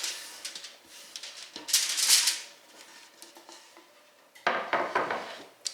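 Sliced bell pepper and onion strips tumble onto a metal baking sheet in a kitchen, making soft patters, a brighter rattling clatter midway and a final burst of thuds and scrapes, close and fairly quiet, with no talking.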